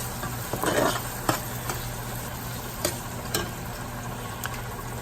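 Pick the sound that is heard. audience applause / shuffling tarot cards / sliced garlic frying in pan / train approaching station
sliced garlic frying in pan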